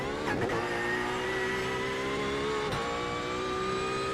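A Porsche race car engine drones loudly and close in iRacing during an endurance race at Bathurst, a steady high rising whine with brief shifts and a rumble, no voices.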